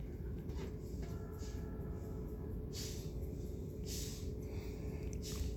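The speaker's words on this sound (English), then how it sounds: "Now you can definitely hear a train." A distant train rumbles steadily and faintly throughout, with a few brief hissing bursts rising above the low drone.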